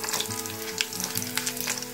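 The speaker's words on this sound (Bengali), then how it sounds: "তেলটা গরম হয়ে গেছে, এবার তেলের মধ্যে আমি দিয়ে দিচ্ছি ফোড়ন।" Whole spices for a Bengali pickle tempering sizzle and crackle in hot oil in a pan, a steady close frying hiss with scattered pops and spits throughout.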